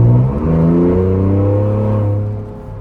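A Ford Bronco Raptor engine hums steadily while driving, a loud close drone with a slight rise in pitch early on, then easing off near the end; no talking.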